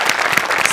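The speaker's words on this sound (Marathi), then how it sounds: "तर त्यांच्यासाठी एकदा जोरदार टाळ्या." Audience applause at a Marathi comedy show, a dense burst of clapping filling the whole moment with no voices over it.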